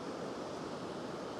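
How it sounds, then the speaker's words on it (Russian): A river flows with a steady broadband rush of water, continuous and fairly close, on a hot outdoor walk in Afghanistan. "Вот она река"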